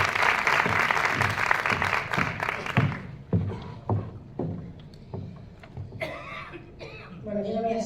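An audience at an association meeting in Fuenlabrada applauds loudly for about three seconds, then the clapping thins into scattered claps and fades, and a voice begins speaking at the end.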